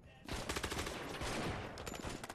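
Rapid automatic gunfire in the Gangstar Vegas shooter game, a dense burst of loud, closely spaced shots starting abruptly and continuing almost without pause to the end.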